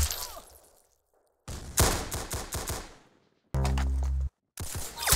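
Rapid gunfire rattles in the Roblox Arsenal shooter, with quick bursts of close, loud shots separated by short silences, plus one sustained buzzing electronic tone.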